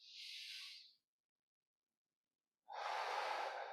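Slow, deep breathing during a movement therapy exercise: one long, airy breath fades out, then after a pause a strong forced exhale pushes out, close and steady, with no talking.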